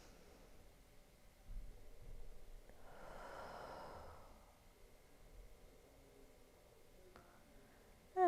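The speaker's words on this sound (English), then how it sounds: "take one more full breath" A single slow, deep breath is drawn in and let out during a yoga session, a soft airy hiss building and fading over a few seconds in a quiet room.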